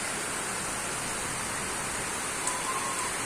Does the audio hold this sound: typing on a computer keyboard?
no